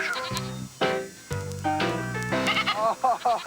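Young fainting goat does on a farm bleat loudly and repeatedly, several overlapping wavering cries up close, with a voice speaking briefly among them.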